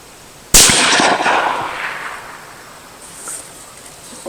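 A single loud rifle shot from a Bergara Wilderness Terrain rifle cracks sharply at a shooting range, then trails off in a long echoing decay across the open surroundings.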